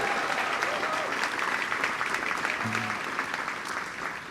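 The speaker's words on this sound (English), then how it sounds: "Let's give them a big round of applause" An audience at a city's State of the City address gives a warm, sustained round of applause, dense clapping heard at a moderate distance with faint voices mixed in.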